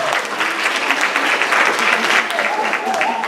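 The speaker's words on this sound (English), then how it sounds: "Y'all give them a round of applause." Crowd at a sorority-hosted money-talk event gives a loud round of applause, dense steady clapping mixed with cheers and scattered voices, continuing at full strength throughout.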